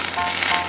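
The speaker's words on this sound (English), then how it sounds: "Now I need to basically weld these sides up together." Welding on metal sides of bathroom furniture gives a brief, loud, steady crackling hiss, heard alone at close range.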